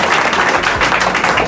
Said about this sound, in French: On applaudit presque.